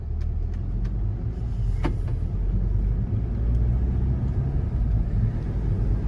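A Volkswagen car on a test drive after a wheel bearing repair, a steady low road rumble and engine drone from inside the cabin, continuous and even throughout.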